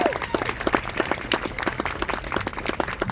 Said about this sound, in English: Can we all give him another round of applause?